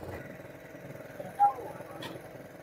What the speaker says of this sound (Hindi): ये इंजन वाली कश्तियाँ हैं जो लोगों को रेस्क्यू करने के लिए जा रही हैं